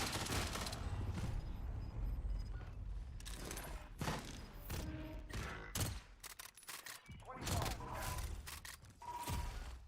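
Gunfire in the Warzone video game, bursts of rapid shots and heavy thumps crowding the whole stretch, loud and close with short gaps between volleys and faint voices beneath.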